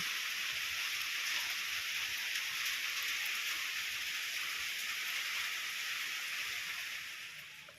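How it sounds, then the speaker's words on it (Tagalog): Rain falls steadily on a farm, a dense even hiss of drops on surfaces that holds constant and eases slightly near the end, with no voices. "maulan po dito ngayon medyo maulan maulan"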